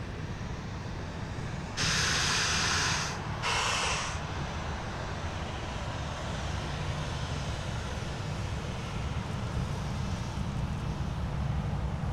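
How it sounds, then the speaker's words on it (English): Regional Express Boeing 737 taxiing at night at an airport, a steady distant jet engine rumble and hiss with two brief louder bursts of high hiss early on, and no voices. "We've got a Regional Express 737 taxiing down taxiway Charlie."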